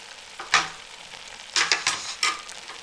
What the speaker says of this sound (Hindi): अब इसके साथ ही हम किशमिश इसमें ऐड कर देंगे।